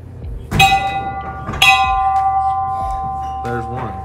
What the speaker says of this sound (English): This is my hardest bell ring.